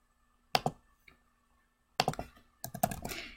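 Short bursts of typing on a computer keyboard while entering course numbers into a college registration page: a quick pair of clicks, then a longer cluster of rapid keystrokes, close and crisp in a quiet room.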